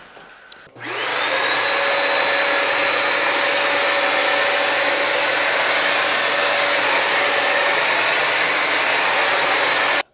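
A Bissell PowerFresh Vac & Steam mop's vacuum motor starts up after a click and runs as a loud, steady high-pitched whir for several seconds before shutting off.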